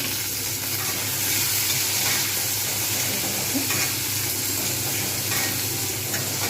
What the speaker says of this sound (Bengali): এইবারে আমি দিয়ে দেবো টমেটোগুলো